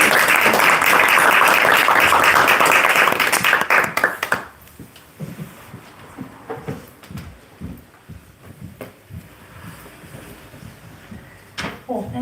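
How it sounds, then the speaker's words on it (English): An audience at a bookstore poetry reading gives loud, dense applause for the Sixteen Rivers poets. The clapping lasts about four seconds, then fades into scattered claps, shuffling and murmured talk. "If you guys can give all of the 16 Rivers poets a big round of applause."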